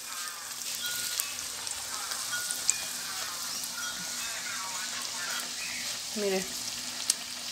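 Chicken empanadas fry in hot oil with a steady, close hiss and scattered crackles and pops. A voice speaks briefly over the sizzle.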